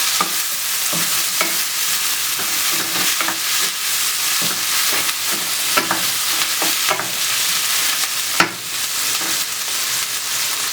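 Cabbage and fresh tomato fry in a pan with a steady sizzle, while a utensil stirs and scrapes in repeated clanks and scuffs. No one speaks over the cooking.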